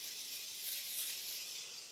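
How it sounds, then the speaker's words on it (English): Nonstick cooking spray misted into a 9x13 baking dish, one steady, soft airy hiss lasting a couple of seconds, close but quiet, with no voices. "Spray your 9x13 baking dish with some nonstick cooking spray."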